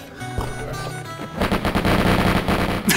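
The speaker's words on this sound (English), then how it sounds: "Just start shooting." Rapid bursts of automatic gunfire in a Lucky Luke rail shooter video game, dense and loud, building into a sustained rattling barrage after a sparser opening.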